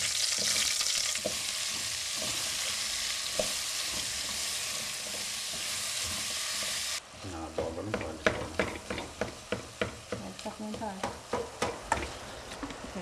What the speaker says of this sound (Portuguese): esquente duas colheres de óleo e frite o alho e refogue a abóbora